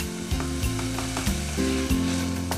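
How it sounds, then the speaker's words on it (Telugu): Ginger garlic paste frying in a pan for a pearl millet vegetable kichidi, giving a steady close sizzle beneath stepped background music, with no voices. "కొద్దిగా అల్లం వెల్లుల్లి పేస్ట్, ఎక్కువ అక్కర్లేదు. కొంచెం వేగుతా."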